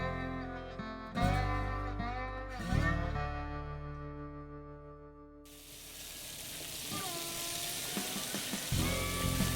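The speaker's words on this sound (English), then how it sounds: "I keep catching the aroma of you frying breakfast for us" Sausage and eggs sizzle and crackle in a hot pan, a steady close fry with a few clatters of a utensil against the pan.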